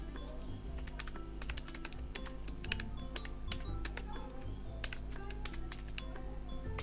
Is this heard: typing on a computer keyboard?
yes